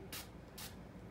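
Two short, loud hisses of makeup setting spray come from a spray bottle held close, evenly spaced about half a second apart against quiet room tone.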